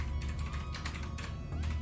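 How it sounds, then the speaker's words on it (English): Keys tapped on a computer keyboard with one hand, a steady run of soft, close clicks over a low background hum. "Typing with one hand."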